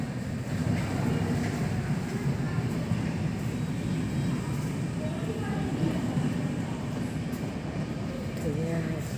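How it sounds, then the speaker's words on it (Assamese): A train runs alongside a main road, a steady rumbling roll that stays fairly near throughout, with people talking over it. "ট্ৰেইন গৈ আছে মেইন ৰাস্তাৰ লগতে।"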